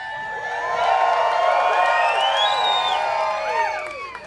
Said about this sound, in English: I think you could cheer louder for the Basement East